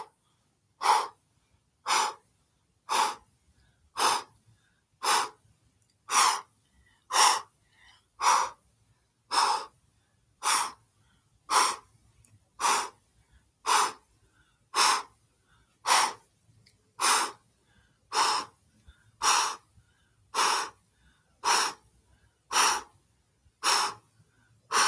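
Kundalini breath of fire done through the mouth during an outdoor yoga session, a long steady series of sharp, forceful breath bursts at an even rhythm of roughly one per second, close and clear with no talk.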